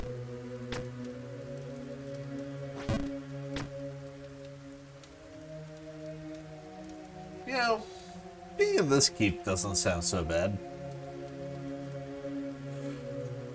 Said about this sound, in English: It does kind of suck that it's raining all the time